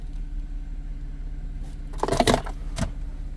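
Keys to a 2011 Audi S4 sport sedan jangle in a short metallic burst of a few clinks, close to the mic, followed by one more brief rattle, with no talking.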